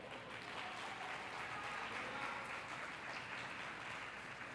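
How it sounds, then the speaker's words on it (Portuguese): A church congregation claps for the Lord during a sermon, producing an even, sustained wash of many hands, quiet and somewhat distant, with no break in the rhythm. "você pode dar um forte aplauso ao Senhor?"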